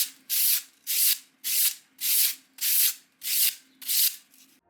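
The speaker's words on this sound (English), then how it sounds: "add texture with the brush" Brush stroked over thin foam strips to texture them for a tabletop fantasy house, seven even, rhythmic scratchy rubbing strokes close up, with short quiet gaps between them.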